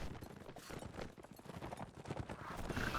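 Horse hooves clip-clopping in a strategy video game match, a quiet, steady patter of overlapping hoofbeats like several mounts moving together, faint throughout.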